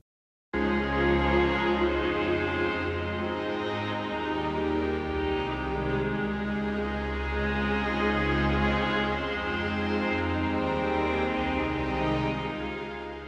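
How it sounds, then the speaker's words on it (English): A full string section plays together as a rich, sustained ensemble, its layered chords swelling continuously and fading slightly at the end. "So yeah, all of the strings together sound like this."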